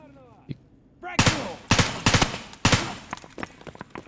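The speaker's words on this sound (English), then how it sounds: "I shot the guy in the head like 6 times then." Rapid bursts of gunfire in a first-person shooter game, several loud sharp volleys fired in quick succession with brief gaps between them, standing out clearly.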